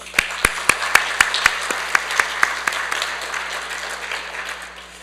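Scattered applause from a church congregation during a Korean worship service, a handful of distinct claps at first that thin out and fade into a quieter murmur by the end.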